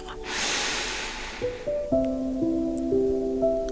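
A deep breath drawn in through the nose during a guided pain-management breathing exercise, one long breathy inhale, followed by soft tonal chime-like notes that ring out alone.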